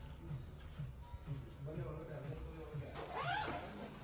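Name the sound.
zipping up a jacket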